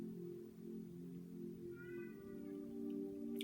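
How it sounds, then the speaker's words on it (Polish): A house cat meowing faintly, a brief thin call rising once over a steady low indoor hum. "Mój kot się odzywa."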